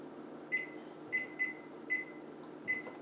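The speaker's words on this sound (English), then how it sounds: "Now we're going to put it in the microwave for 45 seconds." A microwave oven cooking scrambled eggs under paper towels hums steadily and quietly while five short, clear keypad beeps sound at irregular intervals, with no talking.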